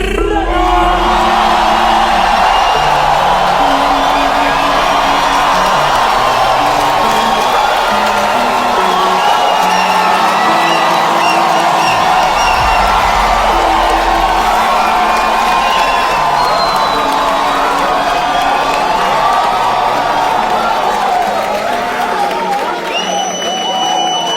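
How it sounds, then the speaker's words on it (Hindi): A comedy show audience roars with sustained cheering, whoops and applause, a dense continuous crowd noise filling the room throughout. "एक बार जोरदार ताली बजा दो सबके लिए भाई"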